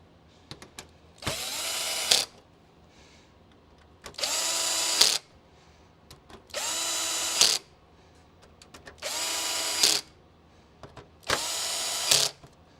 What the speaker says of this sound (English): screw in the 5 screws